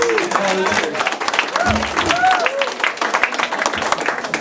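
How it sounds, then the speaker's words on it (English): Crowd applause at a closing and awards program for a Philippine cultural event in Seoul, loud, dense clapping heard close, with voices and cheers mixed in over it. "Round of applause, please, to PIKO for their efforts."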